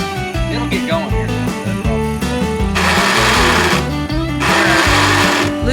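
An old Farmall Super A tractor engine runs close by, with a loud, steady, rapid mechanical chatter and pulsing rhythm throughout, its tone briefly roughening in the middle.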